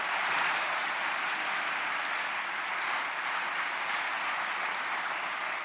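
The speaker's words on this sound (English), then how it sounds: "Let's give them all a round of applause." Audience at a book festival applauding, a broad steady wash of clapping that holds even for several seconds without talk.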